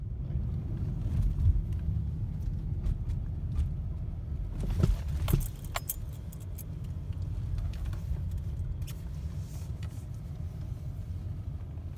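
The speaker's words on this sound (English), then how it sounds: "I'm going to drive now." Car being driven, a steady low engine and road rumble with buffeting wind noise and a few light clicks and knocks, heard from inside at moderate loudness.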